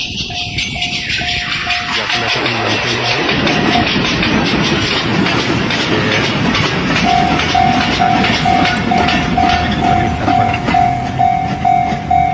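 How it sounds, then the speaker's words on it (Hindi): A train rumbles past a railway level crossing, with steady loud clickety-clack of wagons and a warning bell or tone sounding at the crossing throughout, close by. "अभी ट्रेन और भी आ रही है"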